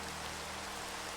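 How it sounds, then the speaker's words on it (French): Steady rain pouring in the Minecraft video game, a dense continuous hiss of drops that fills the whole moment at an even level with no voices. "Oh non, pas la pluie."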